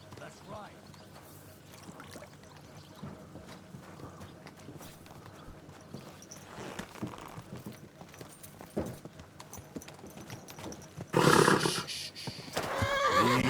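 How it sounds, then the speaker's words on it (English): A horse in the medieval game Kingdom Come: Deliverance 2 gives a loud neigh late on, after a stretch of soft clip-clopping hooves, with scattered talk and ambient game sounds around it. "Easy, good horse."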